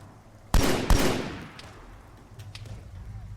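Gunfire from an enemy shooting back in a video game: two sharp, loud shots close together, followed by fainter scattered pops that fade into the distance.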